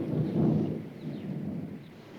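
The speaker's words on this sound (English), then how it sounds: "It sounded like thunder." Faint, low thunder rolls out as a dull, continuous rumble, strongest at first and then fading gradually.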